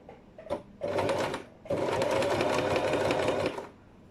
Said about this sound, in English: We start sewing the whole thing